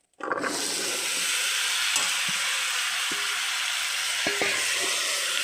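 A steady, bright sizzle of vegetables frying in a pan, with a few soft clicks and scrapes of stirring; no one talks.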